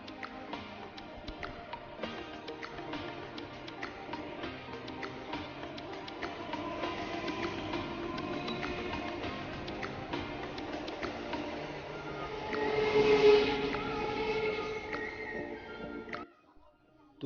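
A railway station in West Bengal while waiting for a late train: a steady hum of crowd murmur and station bustle runs throughout, with a louder swell near the end before it cuts off abruptly.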